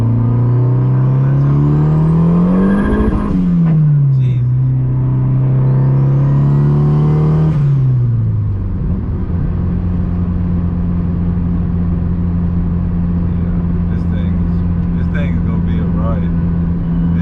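A turbocharged sleeper Honda car pulls hard in second gear on a freshly installed clutch, its engine note climbing loud and close in two rising sweeps before settling into a steady drone.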